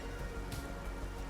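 Rain falls at night during a race in GRID Legends, a dense steady hiss of drops on surfaces with a low rumble underneath, continuous and fairly loud without any talking.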